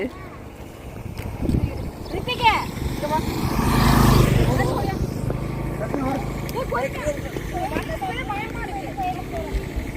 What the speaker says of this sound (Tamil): வண்டி வருது சசி.